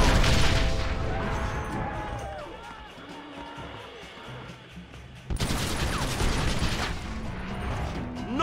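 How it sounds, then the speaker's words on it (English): Cannon fire and gunfire in the Red Dead Redemption video game, with bursts of rapid shots, heavy booms and mechanical clatter, quieting midway before a loud burst resumes, while voices shout over the battle. "John, use the cannon!"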